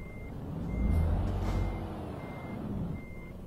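A lorry in Euro Truck Simulator 2 turning slowly, its reversing alarm beeping in an even, spaced pattern over a low diesel engine rumble, with a brief swell of engine noise partway through.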